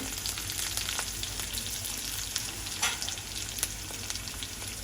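Garlic and curry leaves frying in a pan with cumin seeds, a continuous close sizzle with scattered sharp pops and crackles, one louder spatter near the middle, no talking.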